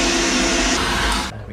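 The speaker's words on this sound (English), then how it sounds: "We've got a parts washer, so we're going to put these in here." A parts washer runs with a loud, steady, rushing whir while motorcycle brake calipers are cleaned in it, then the noise drops away abruptly.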